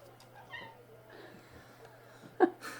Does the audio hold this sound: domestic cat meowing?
yes